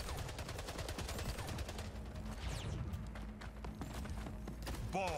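Rapid gunfire from the video game Splitgate, including sniper shots, rattles as a dense run of sharp, evenly spaced reports through the first half, then thins into scattered cracks and a final burst near the end, all at moderate volume.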